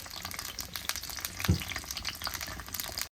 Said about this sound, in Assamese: পিঁয়াজ ঢালি দিলোঁ